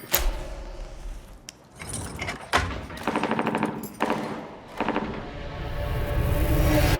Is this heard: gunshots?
yes